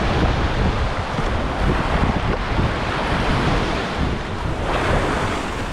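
Ocean surf breaks and washes steadily along a shore at a bass fishing spot, a loud continuous roar of churning water mixed with wind buffeting the microphone, no voices.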